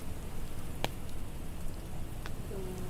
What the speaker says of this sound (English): I like the the fire and rain sound effects.